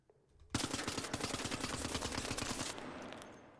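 A rapid burst of gunfire in the video game Arc Raiders, about two seconds of fast, evenly spaced shots, loud and close, trailing off into a fading echo.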